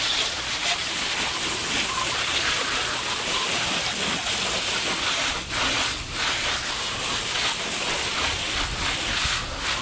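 A light water spray rinses a car engine bay, a steady, dense hiss that holds constant for about ten seconds without a break.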